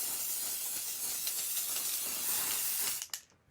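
Aerosol glitter spray hisses in one long, close, steady burst that cuts off near the end, followed by a couple of faint clicks.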